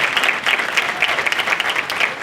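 An audience at a panel event on Black wealth breaks into loud, sustained applause for a speaker, with dense clapping that continues steadily for the whole stretch.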